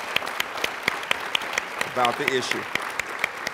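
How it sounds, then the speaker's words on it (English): Scattered hand clapping from an audience at a university State of the University address, honoring students who advocated divesting from fossil fuels; sparse, evenly spaced claps continue under a speaker's voice at the podium. "Give them a round of applause for caring so deeply"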